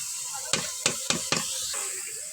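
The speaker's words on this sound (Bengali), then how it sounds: "ডাল আর মাছ একবারে কষাই নিই।" Lentils and a fish head frying together in a pan, a steady sizzle broken by four sharp stirring scrapes in quick succession.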